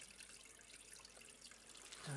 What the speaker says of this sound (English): That's water trickling, I think.